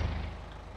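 Low, throbbing engine drone of a Deutz Agrotron 150.6 tractor in Farming Simulator 19, brief, close and constant, with no voices.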